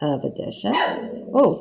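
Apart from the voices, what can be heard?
dog barking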